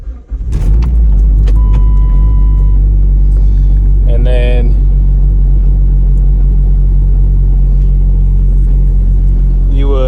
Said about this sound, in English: you just turn the car on